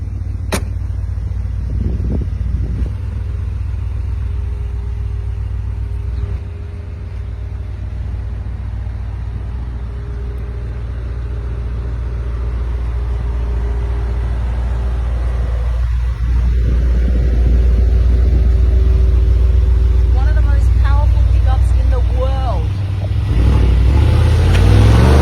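A Brabus-tuned Mercedes G-Wagen engine runs with a steady, deep rumble that swells louder toward the end. No one speaks.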